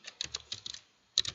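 Quick bursts of clicky keystrokes on a computer keyboard while entering code, close and crisp, a brief pause and then another short flurry, with no voices.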